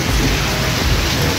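Heavy rain pours down steadily, a dense broadband roar from outdoors beyond the building, with gusts of wind, loud and continuous throughout, with no voices.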